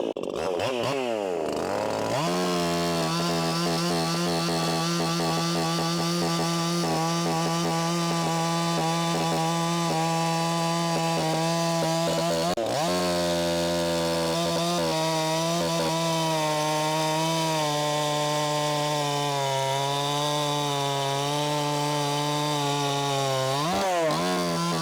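An Echo CS501P chainsaw running a .325 chain bites into wood under heavy feed pressure, its loud, steady engine whine bogging and recovering through two long cuts.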